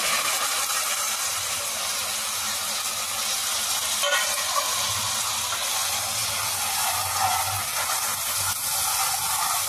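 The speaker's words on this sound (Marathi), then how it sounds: "आता आपल्याला हा मसाला चांगला फ्राय करून घ्यायचा।" Finely chopped onion fries in hot masala for a matar paneer, giving a loud, steady broadband hiss that runs unbroken with no talking.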